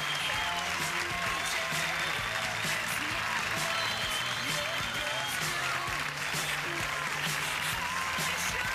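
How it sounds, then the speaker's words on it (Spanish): Studio audience on an Argentine TV variety show clapping along in a steady rhythm, loud and continuous, with music and voices mixed underneath. "vamos con las palmas"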